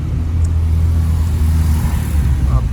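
A Porsche GT3 RS arriving on a Monaco street, heard as a loud, steady low engine rumble with traffic noise around it and no distinct revs.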